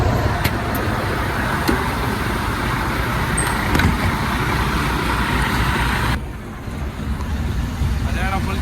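A bus carrying passengers drives steadily along a road with a constant engine and tyre rumble, heard from inside, with faint background voices.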